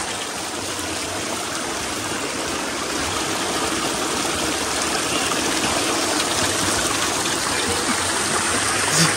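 Clean water flows steadily from a small spring in Nepal, a close, continuous gushing trickle with an even rushing hiss throughout and no voices over it.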